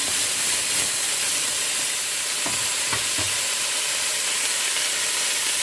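Oysters frying in a pan for Taiwanese fried oysters, a steady loud hiss and sizzle with a few sharp pops and crackles near the middle, heard alone with no talking.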